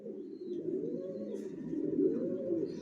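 Racing pigeons coo steadily inside a home breeding loft, a continuous low murmur of overlapping calls from several birds at moderate loudness with no talking.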